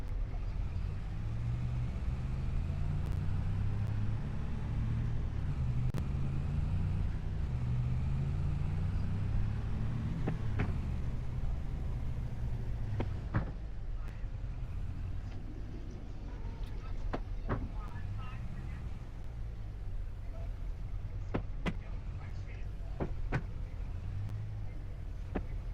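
Farming Simulator 25 truck engine pulling a load, a low rumbling drone that holds steady, dotted with clunks and clicks, faint voices now and then.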